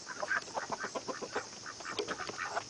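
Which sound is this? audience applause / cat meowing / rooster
rooster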